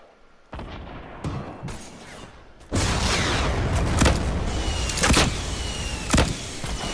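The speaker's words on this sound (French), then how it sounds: "faut voir d'où le gars il tire ses roquettes" Rockets fire and explode in Fortnite Battle Royale, a series of sharp booms and blasts over a loud, continuous rumble of battle noise, some hits close and heavy.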